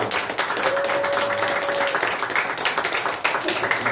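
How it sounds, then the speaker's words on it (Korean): Church congregation applauding the women's church group during a Sunday worship service, a steady crowd clapping that fills the room, with a sustained tone and some voices mixed in. "우리 한번 여성교회에서 박수 한번"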